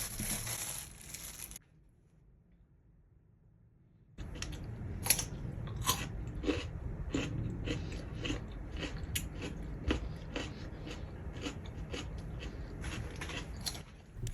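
Crisp, fresh raw chayote squash is bitten and chewed up close: a brief silence, then a steady run of sharp crunches and wet crackles over several seconds, no voices.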